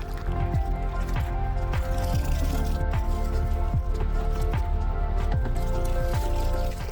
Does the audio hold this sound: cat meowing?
no